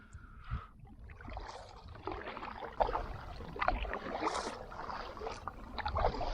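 A kayak paddled on a lake in a park, soft rhythmic paddle strokes and water swishes and splashes up close, fairly quiet against light outdoor wind.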